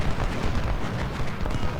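Artillery volley in the Civil War strategy game Ultimate General: Civil War at the Battle of Cold Harbor, a dense rumbling barrage of booms, loud and continuous, with no talk over it.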